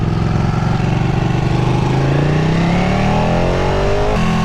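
A Ducati 959 Panigale motorcycle engine drones loudly while riding, its pitch climbing steadily as it accelerates through a gear, then dropping briefly near the end.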